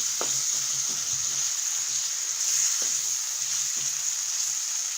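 Spice paste with chopped tomato sizzles in a pan over low heat, a steady hiss throughout with repeated scraping strokes of a spatula stirring it.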